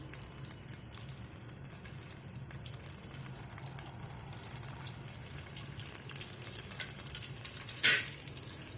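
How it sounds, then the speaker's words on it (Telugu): Oil sizzles steadily in a pan while tempering is prepared for mango semiya pulihora, a constant frying hiss with a brief utensil clatter near the end and no talk. "అది ఇప్పుడు మళ్ళీ ఆ నూనె వేసుకొని పోపు రెడీ చేసుకున్నామండి"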